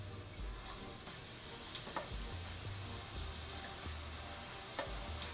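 Cold battered cauliflower pieces fry in ripping-hot oil, a steady dense sizzle with occasional pops and crackles, close and continuous without any talk.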